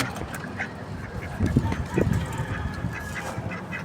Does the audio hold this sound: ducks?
yes